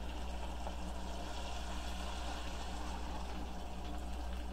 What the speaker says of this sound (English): And we just add our water.